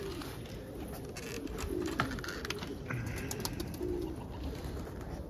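Pigeons or doves coo softly inside a snowy shed, the calls repeating in a low steady murmur with faint chirps over a constant background hum.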